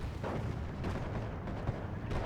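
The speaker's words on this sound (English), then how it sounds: "Mortars, I think, are coming in onto the Schutzen" Mortar shells landing in a Steel Division 2 WW2 strategy battle, a steady rumble of blasts and distant impacts running throughout with no clear gaps.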